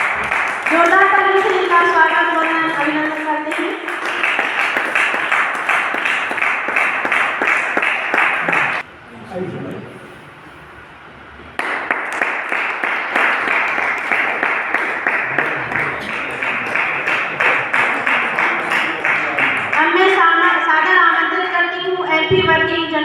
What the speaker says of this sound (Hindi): जोरदार तालियों से इनका स्वागत करना, अभिनंदन करते हैं